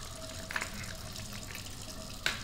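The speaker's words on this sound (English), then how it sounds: "rinse them off a little bit in water." Pedicure tools are rinsed under running tap water, a steady soft stream with two brief splashy clinks as metal meets the flow, close and moderately quiet.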